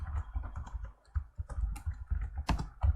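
Someone types a root password on a computer keyboard during a Kali Linux install, with quick irregular key clicks and thumps close to the microphone and a brief pause partway through.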